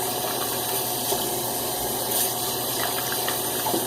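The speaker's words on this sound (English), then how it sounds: "I gotta rinse my hands with hot water because my hands are so slick from handling the soap" Hot water runs steadily from a tap while hands are rinsed of shaving soap lather, a close continuous hiss and splash with slight fluctuations, no talking.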